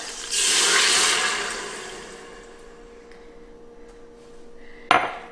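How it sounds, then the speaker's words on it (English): A metal trivet is set into an Instant Pot, then a cup of water pours in, making a loud splashing rush that fades to a quiet hiss, ending with a sharp metallic clink. "we're going to take our trivet, put it straight in the pot. You're going to add a cup of water."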